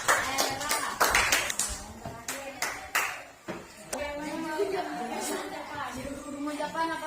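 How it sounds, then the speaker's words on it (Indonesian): Scattered clapping from a classroom of students for a classmate, a few bursts of claps close by, with voices and chatter in between. "tepuk tangan untuk Rijal"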